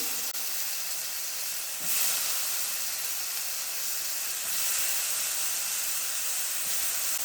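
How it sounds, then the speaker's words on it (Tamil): Tomatoes and chopped brinjal frying in hot oil make a loud, steady sizzling hiss that swells slightly in a couple of places and holds on without pause. "எண்ணெயில் தக்காளி பழத்தை நல்லா வதக்கிடலாங்க"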